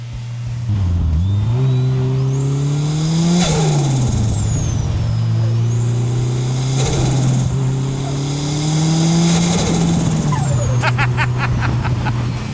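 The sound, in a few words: GT-R powered 240Z and turbo Gemini engines revving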